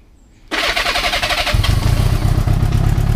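A motorcycle engine bursts into life and settles into a loud, steady, chugging idle with the choke held out, close to the listener, with no talking.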